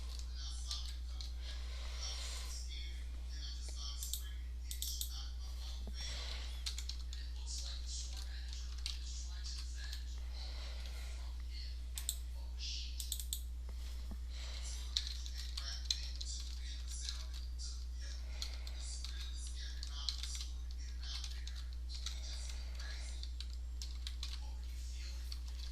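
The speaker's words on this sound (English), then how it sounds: "I'm just going to type out what I want" Typing on a computer keyboard with occasional mouse clicks, a continuous close patter of light key taps over a steady low hum, with faint speech mixed in.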